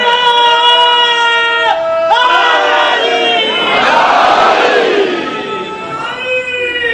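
A large crowd at a religious gathering chants the Naara-e-Haidari slogan in loud, sustained unison shouts that rise and fall across several seconds.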